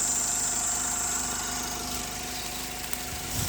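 A small groundwater pump running on a 12V car battery, drawing water from a well: a steady, even mechanical hum with a high whine, constant and close, with no talk.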